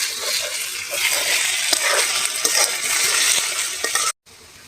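Mustard flower paste sizzles and fries in a pan while being stirred, a steady close crackle with scattered scraping taps, stopping abruptly near the end.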